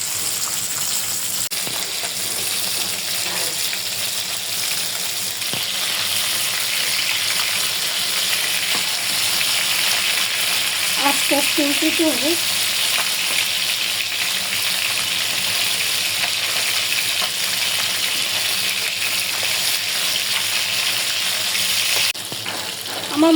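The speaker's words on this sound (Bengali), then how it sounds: "প্রথমে একটু মাছটি ভাজি করে নেব" Baila fish from the river fry in oil with a continuous, fairly loud sizzle and crackle that holds steady throughout, while a voice briefly speaks partway through.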